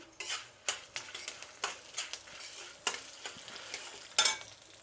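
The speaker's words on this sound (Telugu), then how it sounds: "ఇప్పుడు ఎండుమిరపకాయలు, ఇప్పుడు కరివేపాకు వేసుకుందాం." Dried red chillies and curry leaves go into hot oil for a Karnataka-style powder tempering, with quick repeated stirring scrapes against the pan over a light sizzle, close and crisp.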